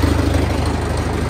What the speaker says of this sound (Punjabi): ਫਾਈਨਲੀ ਹਮਾਰਾ ਟਰੈਕਟਰ ਸਟਾਰਟ ਹੋ ਗਿਆ ਹੈ